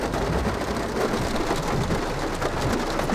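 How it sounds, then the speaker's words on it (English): Heavy rain pouring down steadily, a dense, loud wash of drops hitting surfaces nearby, continuous throughout with no voices. "It is raining so much."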